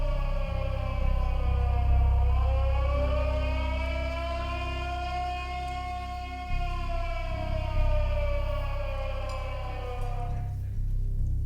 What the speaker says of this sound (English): The siren would sound.